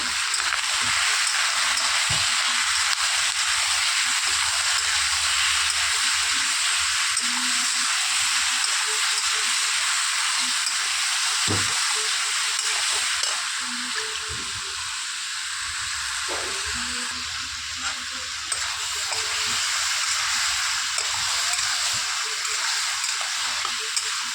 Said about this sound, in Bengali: আমি লবণ হলুদ দিয়ে একদম ভালো করে নাড়াচাড়া করে নিয়েছি